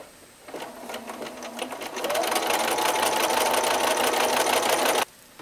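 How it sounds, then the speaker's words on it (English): A sewing machine stitches a quarter-inch seam joining mitered quilt border pieces, starting slowly and then speeding up into a steady, fast mechanical whir before stopping abruptly. "I'm just going to put them together and then sew a 1/4-inch seam."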